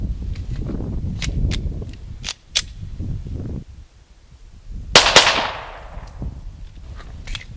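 An unsuppressed Glock 34 pistol fires one loud, sharp report with a ringing tail, preceded by lighter clicks and handling knocks on a range, without talk.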